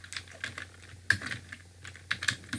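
Close, crisp keyboard typing as a search is entered, irregular clusters of keystrokes with a couple of sharper key hits, alone with no talk.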